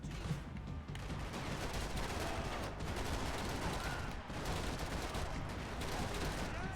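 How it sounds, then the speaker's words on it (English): Gunfire and a booming cannon blast in the video game Max Payne 3, dense continuous shooting with heavy impacts and periodic louder bursts, loud and sustained. "Powerful impact, boom from the cannon."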